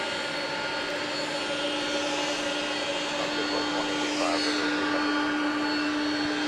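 A jet airliner roars in steadily on approach to land at Atlanta's airport at night, a broad continuous rumble with a steady engine whine running throughout, no voices over it.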